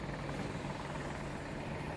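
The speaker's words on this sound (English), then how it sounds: "In our attack helicopter." An attack helicopter in the video game Battlefield 2042 gives off a loud, continuous rotor and engine drone that holds steady throughout, with no speech.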